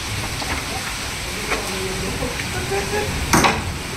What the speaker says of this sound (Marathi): आज मालवणात पाऊस चालू झालेला आहे